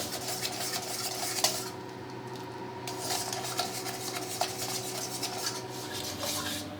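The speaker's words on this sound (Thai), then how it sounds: "เคี่ยวให้น้ำซอสในกระทะ ตอนที่ร้อนๆอ่ะ ค่อนข้างออกหนืดนิดนึงครับแต่อย่าให้ข้นนะครับ" Tamarind sauce with fish sauce simmering in a hot pan while a utensil stirs it, giving steady scraping and light metallic clinks over a soft, continuous sizzle, with no talking.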